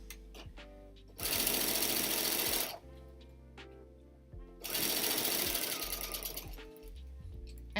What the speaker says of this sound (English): as you can hear, it just makes your machine a little bit more noisy